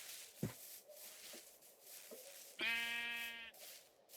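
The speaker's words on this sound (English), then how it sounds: "Why is there so many sheeps?" A Minecraft sheep gives one clear bleat, loud and close, with a steady harmonic tone that lasts about a second, over quiet game ambience.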